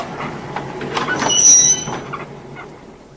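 An electric multiple unit train eases back slowly for coupling, with steady rail rumble, a swelling mid-clip grind and a thin high wheel squeal near the middle, all without any voices.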